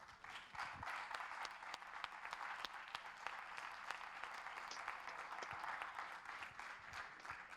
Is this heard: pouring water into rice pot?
no